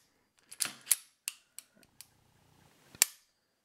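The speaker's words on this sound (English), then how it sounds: "I'm just going to go ahead and do a quick little dry fire and see how smooth that is." Dry-fire trigger clicks from a Kahr P380 pistol: a series of sharp, close mechanical snaps, several in quick succession and then a final crisp click after a pause.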